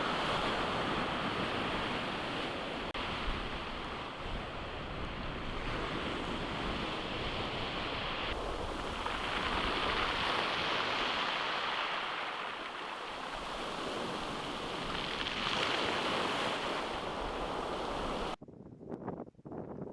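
Sea waves on the shore in France: a steady, surging roar of surf with slow swells rising and falling over about twenty seconds, mixed with wind buffeting the microphone, and no talk.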